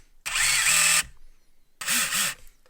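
An SCX24 RC crawler fitted with an RCAWD two-speed motor and transmission runs in high gear, making two close, high-pitched electric motor whines that rise and fall in pitch, separated by a short quiet gap.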